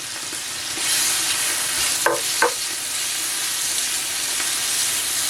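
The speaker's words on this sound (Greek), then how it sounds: "αφήνουμε να σοταριστεί και αυτό για 1 λεπτό να βγάλει τα αρώματά του" Tomato paste sautéing in a pan, a steady close hiss and sizzle that holds throughout, with two brief scraping stirs partway through.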